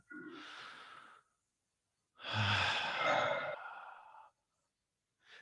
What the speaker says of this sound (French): inspire profondément